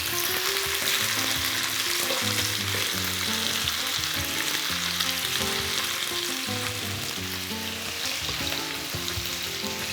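Potatoes and chicken frying in a pan for a chicken tomato stew, a dense continuous sizzle and crackle with soft stirring scrapes, close and steady throughout.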